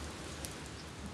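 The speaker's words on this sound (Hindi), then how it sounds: "धुआंधार बारिश हो रही है दोस्तों।" A heavy downpour falls outdoors, a dense and steady hiss of rain with scattered drop patter, heard alone without talk.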